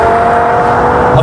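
A BMW E60 M5 with a V10 engine accelerates hard in a drag race, its loud, steady engine roar sustained and close throughout with a rising revving tone.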